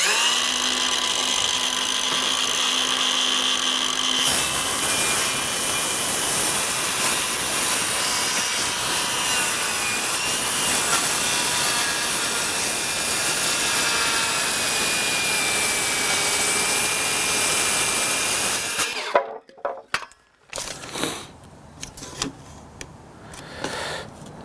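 A circular saw cuts through a 12-inch piece of wood. The blade whines loudly and continuously for about fifteen seconds, then winds down into a few brief knocks and rattles.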